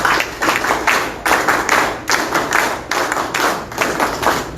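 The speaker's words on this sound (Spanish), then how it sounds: "Fuertes palmas, por favor." Sustained audience applause at a political meeting, dense clapping from many hands that swells in regular waves, loud and close with no talking over it.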